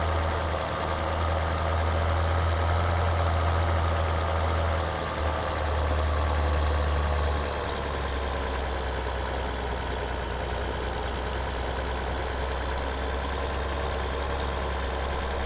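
A tractor engine in Farming Simulator 2013 hums at a steady idle with a low, heavy drone, and its deep tone drops to a lower pitch about halfway through before droning on evenly.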